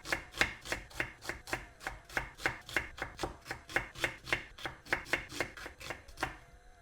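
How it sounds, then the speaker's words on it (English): Two onions thinly sliced with a knife on a cutting board, a close, crisp series of about two dozen evenly spaced chops in a steady rhythm, with no talking. "I'm using 2 onions for this, and I am just going to thinly slice these pieces."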